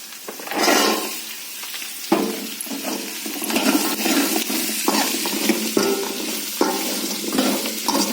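Pumpkin pieces frying and sizzling in a pan, with stirring clatter and a steady hiss that flares when the pieces drop in, close and fairly loud with no talk.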